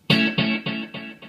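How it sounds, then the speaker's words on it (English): A guitar chord rings out and repeats in four evenly spaced echoes, each a little quieter than the last, with the trailing repeats staying strong. "It sounds like this."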